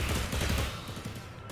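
Rapid gunfire rattles in The Anacrusis, a sci-fi co-op shooter, as a dense, close burst of overlapping shots.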